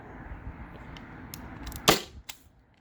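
A Byrna SD launcher fires a salt round through a chronograph, one sharp close pop standing out after quiet handling clicks, followed by a smaller click.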